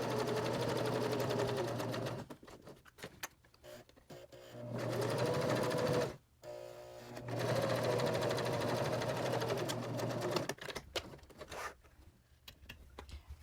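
Sewing machine stitching along a placemat edge in several close, steady runs of rapid whirring, separated by short pauses while the fabric is turned.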